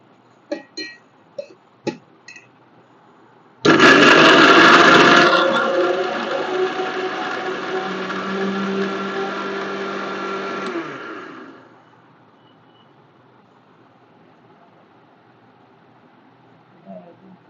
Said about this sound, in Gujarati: હવે આને છે ને મિક્સરમાં હવે દળી નાખવી.